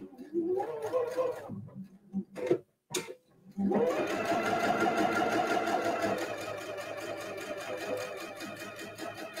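A sewing machine using its integrated dual feed starts up after a few brief handling noises, then stitches in a fast, steady, even mechanical whir that runs close and continuous to the end.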